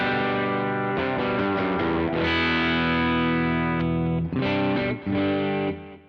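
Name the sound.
electric guitar through Kemper amp profile, edgy drive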